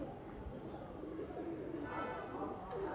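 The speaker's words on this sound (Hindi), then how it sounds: "तो सारे कबूतर इधर उधर बैठा है, वो वाला उधर बैठा है।" Domestic pigeons kept in a rooftop loft in Lucknow coo softly in a low, continuous murmuring warble, slightly distant under faint background room noise.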